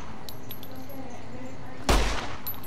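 A single gunshot from a gun in the video game Fallout: New Vegas cracks out as a sharp, loud burst near the end, over a low steady background.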